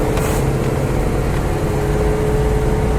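A 1967 Pontiac GTO hardtop idles close by with a loud, steady low rumble and a faint constant whine, unbroken for three seconds with no talk.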